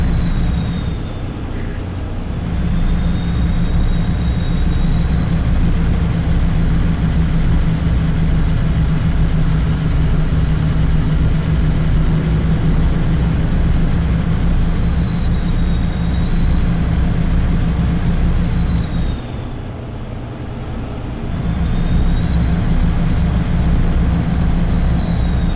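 Default engine sound of a Freightliner Cascadia truck in American Truck Simulator: a steady, loud low-pitched drone with a faint high whine that runs throughout and dips briefly near the start and again around the twentieth second.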